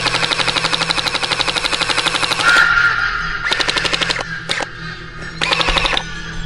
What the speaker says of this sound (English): Fire some shots up there.